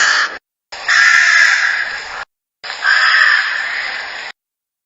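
A big black bird, a crow, gives two long, loud, harsh caws close by, each a drawn-out raspy squawk with a brief silence between them.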